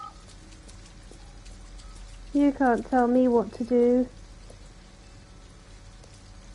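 Steady rain falls in the video game Detroit: Become Human, a soft continuous hiss that runs throughout while a voice speaks briefly in the middle.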